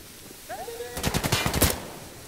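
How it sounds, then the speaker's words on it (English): Gunfire in the video game Insurgency: Sandstorm, a rapid burst of about eight loud, sharp automatic shots in quick succession, following a brief faint whistle-like tone. "That bloke stuck his head out and then went up in a hail of gunfire."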